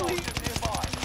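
Rapid automatic gunfire in the video game Warzone, a dense burst of evenly spaced shots close up with loud game effects throughout and faint voices underneath.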